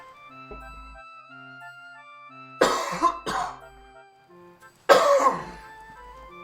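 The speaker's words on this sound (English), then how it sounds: "Sorry about that cough, by the way." A character coughs in Dragon Quest XI, two distinct harsh cough bursts separated by a pause, heard over soft background game music.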